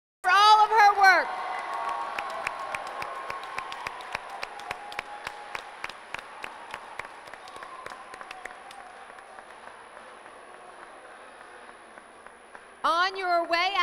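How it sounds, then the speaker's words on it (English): A high school assembly crowd claps and cheers in a gym, with rhythmic clapping building and fading over several seconds. Loud shouting and voices burst in at the start and end. "Let's give one more big round of applause to State Farm and to Alice for all of her work."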